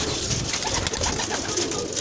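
Old pigeons in a coop coo softly and steadily, close by, with a dense rustling background of birds and no talk.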